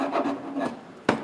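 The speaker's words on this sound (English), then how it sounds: "I'm going to use this to gently file a little bit of bevel" Metal file rasping across a new fret on a crate guitar to bevel its end, two short scraping strokes followed by a brief sharper scrape, close and quiet.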